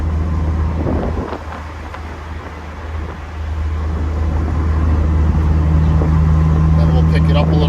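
A 1969 Alfa Romeo Spider Veloce engine pulling on the road and shifting down through the gears, a dip near the middle then a steady rising drone, with wind buffeting and a voice talking over it.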